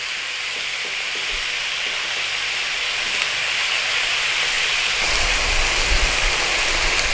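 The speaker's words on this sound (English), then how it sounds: "All I'm doing is just putting a little bit of a sear on there, seal it up" Fatty chuck beef searing in a hot pan before going into a slow cooker for madras, giving a steady, close hiss and sizzle that holds for the whole stretch and swells slightly toward the end.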